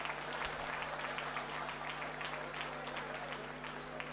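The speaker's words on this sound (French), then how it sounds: "Applaudissez pour moi." Audience applause from a crowd at a live storytelling event, steady clapping filling the whole stretch at moderate level with a faint hum beneath.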